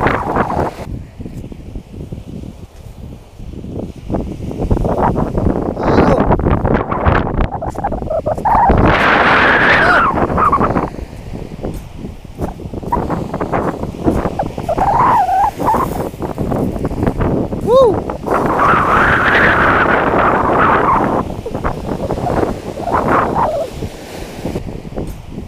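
Strong wind batters a microphone on a fishing boat out on the open water, roaring in loud, buffeting gusts that swell and ease over a churning wash of waves, with occasional faint voices underneath.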